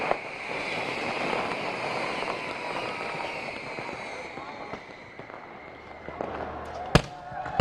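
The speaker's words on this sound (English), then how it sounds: "Robin Uthappa has joined his team for the fireworks and the presentation." Fireworks at a cricket trophy presentation in a stadium, continuous crackling and popping over a roaring crowd, with a few sharper bangs near the end; a voice talks through it.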